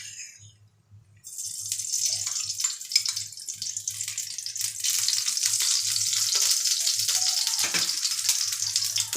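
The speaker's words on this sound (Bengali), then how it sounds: "দিয়ে সিমুইটাকে লাল লাল করে ভেজে নেব" Vermicelli (semai) fries in ghee. After a quiet second, a loud, close sizzle bursts in and carries on, growing fuller toward the end, with a soft low rhythmic thumping beneath it and no voices.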